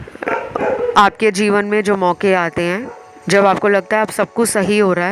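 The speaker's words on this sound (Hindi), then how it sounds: "कुत्ते के भौंकने की आवाज़।" A dog barks repeatedly in the background, loud bursts in quick runs, while someone talks steadily over it indoors.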